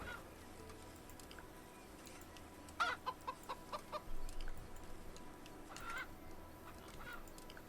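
Chicken in the medieval video game Medieval Frontiers clucks in a quick run of short, fairly faint notes over steady outdoor ambience, with a louder squawk a few seconds later.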